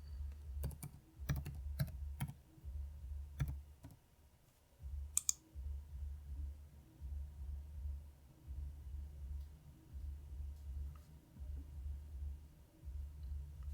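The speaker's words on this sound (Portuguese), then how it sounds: "Agora eu vou digitar um e-mail aqui. Vamos digitar agora a senha." Keys clatter on a computer keyboard as an email and password are typed, with quick soft clicks in short bursts, over a low steady hum from nearby equipment.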